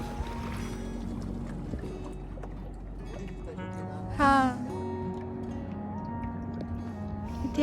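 A motorboat engine drones steadily on a dolphin safari at sea off Vengurla, Sindhudurg, a close continuous hum with tonal whine and a brief louder swell partway through; voices talk faintly over it.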